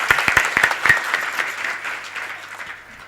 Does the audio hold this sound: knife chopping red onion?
no